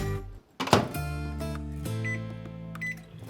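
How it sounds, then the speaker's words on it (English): An Amazon Smart Oven being loaded with a dish to keep warm: a door clunk and knock, then a steady appliance hum with short electronic beeps near the end. "I'm gonna keep this warm in the Amazon Smart Oven"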